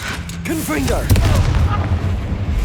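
A single fiery Confringo spell blast booms in Hogwarts Legacy combat, a deep rumbling burst following brief game voice sounds, then a sustained low roll.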